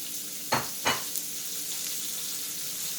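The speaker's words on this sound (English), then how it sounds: "Next step is to saute some of the veggies." Vegetables sauté in a pot for beef stew, a soft steady sizzle broken by two sharp stir or scrape hits near the start.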